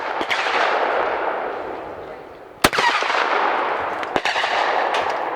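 Shotgun blasts from French 21 gram number 7 cartridges ring out outdoors, a loud crack near the middle and a softer one later, each trailing off over steady wind-like background rush.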